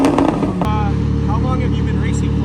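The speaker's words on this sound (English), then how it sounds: "Your engine's so loud I can't even hear ya." Race car engine idling loud and steady at a track, a constant low throb that drowns out nearby voices talking over it.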